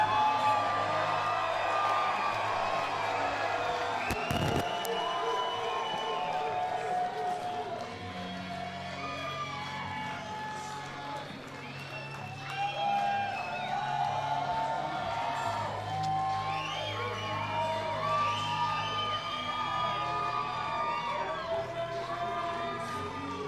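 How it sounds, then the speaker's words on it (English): Arena crowd at an LFA mixed martial arts event cheering and whooping as fighter David Wright walks out to the octagon, a steady roar of many voices with scattered shouts throughout, with faint commentary underneath. "Well, the crowd's ready"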